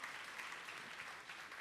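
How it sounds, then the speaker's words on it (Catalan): Audience applause at an awards gala greets a guest, a continuous, fairly faint patter of clapping hands throughout with no clear voices on top. "Salvador Dalí, un fort aplaudiment."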